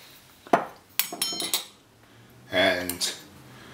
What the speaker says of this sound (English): we're gonna add all these yolks to the bowl